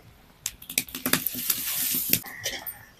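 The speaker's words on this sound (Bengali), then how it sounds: "এমনভাবে আলুটা ভাজবো ভাজতে ভাজতেই সেদ্ধ হয়ে যাবে" Raw potatoes frying in hot oil in a pan, with a steady loud sizzle broken by crackling bursts and clattering stirring strokes close by, and no talk.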